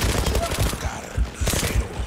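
The MPT-76 rifle in the shooter game Zula fires rapid bursts, each shot a sharp crack in quick succession with brief gaps, loud and close.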